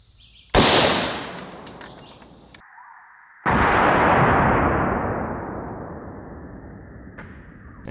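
An AK-47 fires 7.62x39 rounds into a sandbag outdoors: two loud, sharp gunshots about three seconds apart, each followed by a long rolling echo that fades away.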